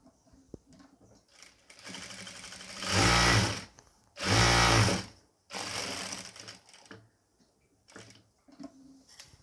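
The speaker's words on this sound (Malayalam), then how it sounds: "ഇനി ഈ 3 ഭാഗത്തും നമുക്കൊന്ന് സ്റ്റിച്ച് ചെയ്ത് കൊടുക്കാം കേട്ടോ." Three separate bursts of a sewing machine stitching nighty fabric, loud and close, each a few seconds of rapid whirring with quiet gaps and faint handling noises between them.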